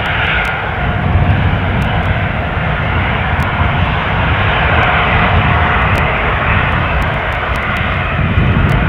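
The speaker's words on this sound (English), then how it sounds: "our incoming Lufthansa Embraer, jinking its way in from Frankfurt" A Lufthansa Embraer jet airliner from Frankfurt on its approach into Newcastle International airport, a steady loud engine roar with broad rumble that holds throughout, no voices over it.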